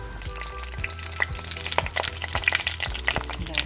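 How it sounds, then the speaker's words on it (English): A low-carb tortilla fries in oil in a flat pan, a steady close sizzle with intermittent crackles and pops and occasional soft scraping as it is handled. "And we're gonna fry it up a little bit, both sides."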